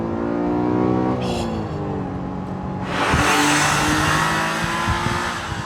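A Honda NSX supercar engine climbs through its revs as the VTEC engages, the rising tone surging into a louder, harsher howl midway and holding high, with no talking over it.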